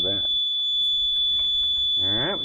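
A 20-year-old truck's warning buzzer sounds as a steady, shrill continuous tone that runs unbroken through the whole moment, with someone talking over it at the start and end.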